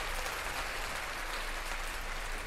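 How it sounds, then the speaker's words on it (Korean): Crowd applause effect triggered by a button on a Tascam US-42 interface during a game recording, a dense, even burst of clapping lasting a couple of seconds, fairly quiet, with no talking. "이런 식으로 뭔가 잘했을 때 박수 누르면"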